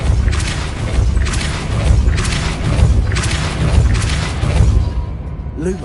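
Depulso spell impacts in the Hogwarts Legacy video game, a series of four or five heavy booming thuds with whooshing bursts at a steady rhythm, loud and close.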